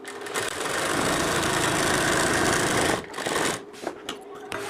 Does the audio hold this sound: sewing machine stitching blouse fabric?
yes